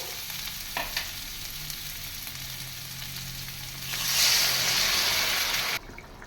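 Potol-prawn curry gravy bubbling steadily in a pan, a soft continuous sizzle and simmer close by that swells louder toward the end, with no voices.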